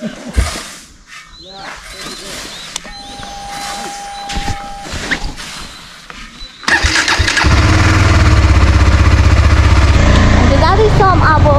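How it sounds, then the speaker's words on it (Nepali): A motorbike engine catches after a stretch of talking and background noise, then runs loud and steady close by, idling with a constant rumble. "बाइकलाई स्टार्ट गरेर जाउँ"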